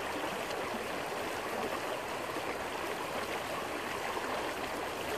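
A fast-flowing mountain stream in winter rushes steadily and loudly, a dense unbroken wash of water close by with no voices.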